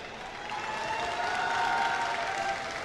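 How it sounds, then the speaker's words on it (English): Audience applause at a Robocon robotics competition match, a soft, even, distant patter of many people clapping that swells slightly in the middle of the brief burst. "Can we have a round of applause for both the teams,"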